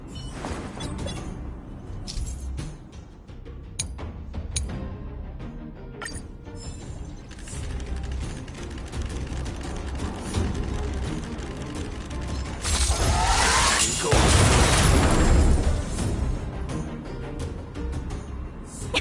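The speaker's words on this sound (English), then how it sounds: "We wiped them all out in a single explosion!" A large automaton stealth bomb going off in Honkai: Star Rail, a loud burst and rumbling blast swelling near the end over busy mechanical game noise.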